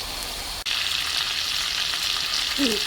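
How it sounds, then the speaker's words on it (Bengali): Steady, loud sizzling of prawns frying in hot oil, a continuous crackling hiss with a brief break early on and a faint clink near the end. "চিংড়ি মাছটা কি সুন্দর ফ্লেভার বের হয়ে আসছে এবং ভাজা হয়ে আসছে"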